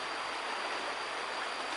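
A pretty mountain stream running over a wide bed of rocks, its steady broadband rush of flowing water continuous and fairly close throughout, with no voices.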